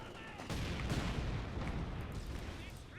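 Machine gun fire from a Company of Heroes 2 battle on the Port of Hamburg map, a dense, continuous clatter of gunfire that swells in after a brief quiet start and keeps rattling to the end.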